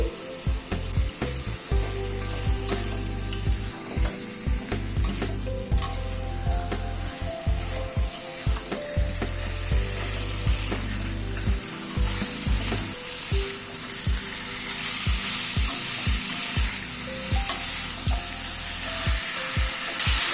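Curry-cut chicken frying with spices in a pan, a loud continuous sizzle broken by frequent scraping and knocking of the spatula as it's stirred, close up, with no talking.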